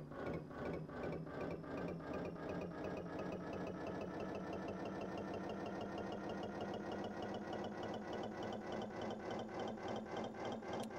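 Huge twin engines of a ferry boat in the Stormworks game warm up with a steady, loud mechanical chugging and a fast regular pulse that stays dense and even throughout, with no voices over it.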